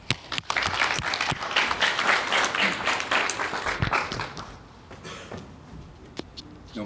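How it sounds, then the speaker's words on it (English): Audience applause at a Motor Press Guild gathering, a burst of many hands clapping close and loud for about four seconds, then thinning into a few scattered claps. "So let's give him a round of applause."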